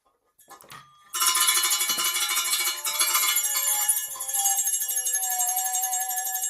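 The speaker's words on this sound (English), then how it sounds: "There's the bell, the front door of the convenience store." Bright jingling bell on a convenience store's front door, ringing continuously and fairly loud for several seconds after a couple of faint knocks, with a lingering metallic shimmer.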